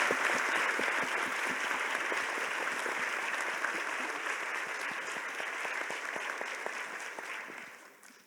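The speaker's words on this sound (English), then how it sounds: "Let's everyone give our panel a really warm round of applause." An audience at a plenary session applauds a panel with a dense, steady round of clapping that holds strong before fading out at the end.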